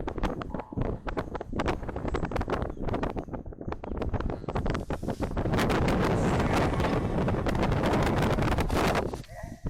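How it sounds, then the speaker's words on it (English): Strong wind buffets the microphone in continuous loud rumbling gusts, with no clear pauses. "it's too windy out here"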